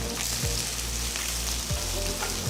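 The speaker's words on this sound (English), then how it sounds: "Saute the onions till they are transparent" Thinly sliced onions and slit green chillies sauté with cinnamon, clove, cardamom, star anise and bay leaf in a pan, giving a steady close sizzle with occasional stirring scrapes and no voices.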